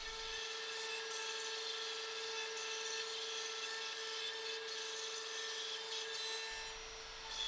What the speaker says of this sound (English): I grabbed some French oak and ran the machine over it using a 1/8 straight milling